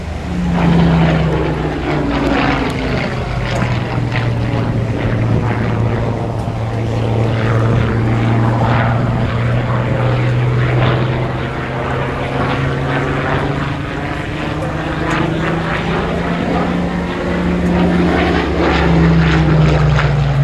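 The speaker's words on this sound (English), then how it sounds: "This is one of the stars of the time, the Hawker Hurricane." A Hawker Hurricane monoplane fighter flies past at an air show, its piston engine and propeller giving a loud, steady drone that swells and shifts in pitch as it passes, with no voices.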